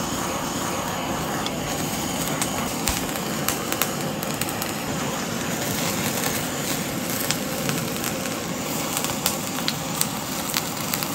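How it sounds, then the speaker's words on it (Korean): A steady, roaring hiss of a kitchen blowtorch flame searing a stir-fry of pork, vegetables and seafood for Nagasaki champon runs continuously, fairly close and even, with faint crackles scattered through it. "오늘은 토치로 불맛을 좀 입혀주겠습니다."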